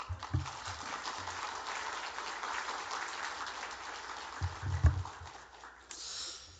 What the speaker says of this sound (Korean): 오늘 나오실 때 감사하는 마음으로 박수로 환영해 주시기 바랍니다